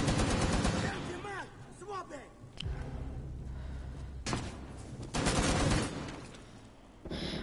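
Turret gunfire in the Rainbow Six Siege video game comes in several loud bursts of rapid automatic shots separated by short pauses, mixed with game sounds.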